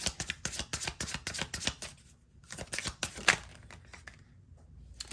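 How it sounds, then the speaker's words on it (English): Tarot cards riffle and flap in quick bursts of crisp shuffling, pausing briefly before another round of rapid shuffling close up. "let me just shuffle again"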